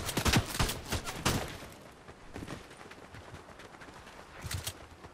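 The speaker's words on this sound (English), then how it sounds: "the bots are shooting at us" Video game bots fire guns in bursts, several sharp volleys of shots in quick succession at first, then a quieter gap and another short burst toward the end, at moderate distance.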